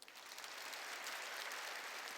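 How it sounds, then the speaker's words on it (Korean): A church congregation claps during a Wednesday worship service, a soft, even wash of applause that sounds distant and faint, with no voices over it. "이 여인이 박수 좀 쳐줘요."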